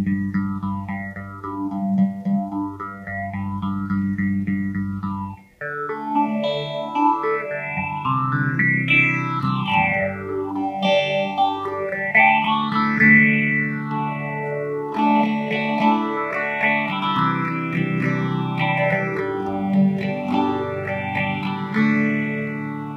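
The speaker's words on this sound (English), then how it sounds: "The feedback all the way up kind of gives it a scooped sound." Guitar through an Electro Harmonix Bad Stone phase shifter with feedback maxed, a hollow, scooped tone whose resonant notches sweep up and down in steady repeating arcs over strummed chords, loud and close throughout.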